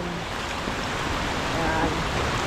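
Strong water rushes over rocks at Buruwisan Falls on Mt. Romelo, a loud, steady churning wash close by, with faint speech-like sounds mixed into the roar.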